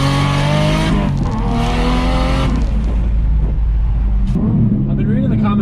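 A Toyota Chaser JZX100 accelerates hard, its engine note climbing and shifting through revs, with a rough break midway and loud wind and road roar, while a person talks over it.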